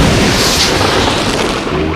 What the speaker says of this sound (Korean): 오우랑 메다노는 폭발했다.